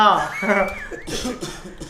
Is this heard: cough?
yes